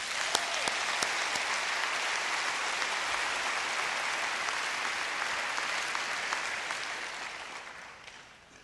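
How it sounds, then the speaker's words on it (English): An audience at a school district convocation claps together in sustained, dense applause that holds steady and then fades out toward the end. "give yourself an applause right now"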